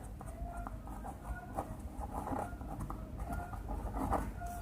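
Marker or chalk scratching across a board while a math problem is worked out, in a steady run of short strokes and taps that stays fairly quiet and continuous, with no talking.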